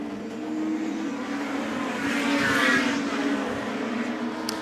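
Super Touring race cars lap the Goodwood circuit in a mock racing demo, their engines forming a loud, continuous roar that swells to a peak as the cars pass, then eases slightly.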